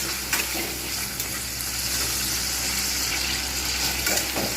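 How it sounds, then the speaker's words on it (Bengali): Tomatoes slowly frying in a pan for kabli chana, a steady close hiss of sizzling oil with a few faint stirring taps. "টমেটোগুলো কিন্তু অনেকটাই সময় নিয়ে একটু ভেজে নিলাম আস্তে আস্তে"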